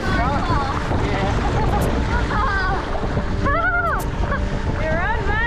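A catamaran sails in light wind of a few knots, with steady wind rush and water washing against the hulls, while voices call out excitedly over it.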